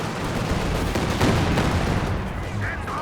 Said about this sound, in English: Katyusha, good barrage again.